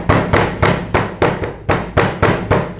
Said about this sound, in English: So I've got a hammer here.